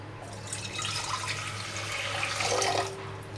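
Water runs steadily from a tap into a cooking pot, a continuous splashing hiss that swells slightly toward the end.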